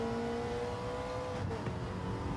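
Race cars in Gran Turismo 7, including a Ferrari Dino, drone with a steady engine note that dips in pitch midway as a car passes close by.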